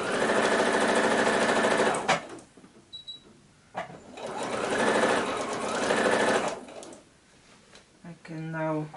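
A sewing machine stitches a quilted Christmas tree skirt in close, steady whirring runs, starting and stopping a few times, with short pauses and brief handling noises between bursts.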